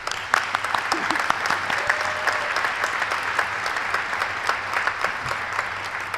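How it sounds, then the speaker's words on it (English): An audience claps steadily and warmly at a 2017 fall commencement ceremony for Owens Community College in Ohio, with the dense applause filling a large hall for several seconds. "That's a good time to clap."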